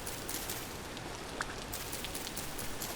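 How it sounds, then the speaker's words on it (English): Steady rain falls in the survival game Vintage Story, a constant soft patter with no voices. "I hate that it is still raining"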